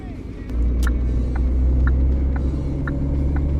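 Truck in the PS5 game On The Road Truck Sim merging onto a German highway between Cologne and Dortmund, a steady low engine rumble and road drone holding loud throughout, with faint periodic ticks above it.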